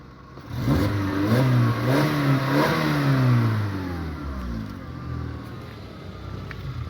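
A 2004 Skoda Octavia 1.6 MPI engine revs up sharply, holds a strained roar, then winds back down toward idle.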